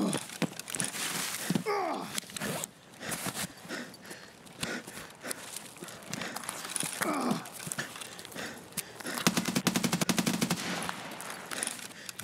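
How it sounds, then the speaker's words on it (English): Bursts of automatic gunfire and rapid single shots from the video game Escape from Tarkov crack through the scene at varying distances, with a dense rattling volley near the end and brief talking between players. "Is that him shooting?"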